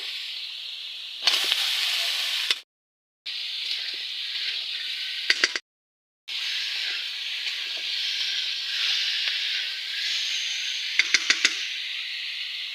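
Vegetables hit hot oil and fried spices in a pan, cinnamon and cardamom among them, setting off a loud, steady sizzle with no talk. It breaks off twice for short silences, and faint clinks of a utensil sound now and then.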